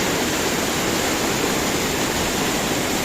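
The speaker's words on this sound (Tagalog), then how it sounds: "Look at that falls." A waterfall at an outdoor excursion spot: a loud, dense, unbroken roar of rushing water that fills the whole scene without pause.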